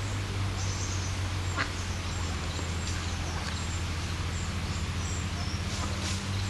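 An adult female mallard duck with her ducklings gives faint, scattered quacks and peeps outdoors under a steady loud hum of background noise.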